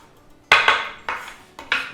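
Knife chopping almonds on a board for a multigrain atta and dry-fruit pinni, four sharp close chops, the first two quick together, then two spaced ones.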